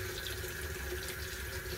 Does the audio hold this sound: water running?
yes